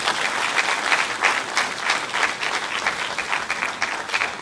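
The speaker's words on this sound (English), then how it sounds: "An incisive presentation such as that deserves a better round of applause, please." An audience at a government budget briefing gives a sustained round of applause, dense and even clapping filling the room without pause.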